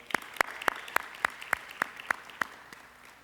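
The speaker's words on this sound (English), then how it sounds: "Can we give him a round of applause as well?" Clapping at the Grow Detroit's Young Talent kickoff celebration in Detroit: about nine sharp, evenly spaced claps in a steady rhythm, fairly close and distinct, fading slightly at the end.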